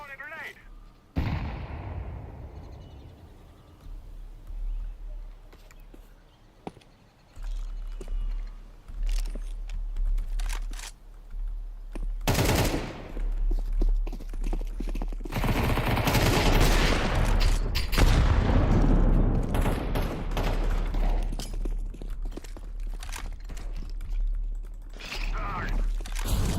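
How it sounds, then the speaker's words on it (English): Gunfire and a grenade blast sound out of a video game, with sharp bursts and a long rumbling roar of explosions. Background chatter and keyboard clicks run throughout. "I'm throwing a grenade."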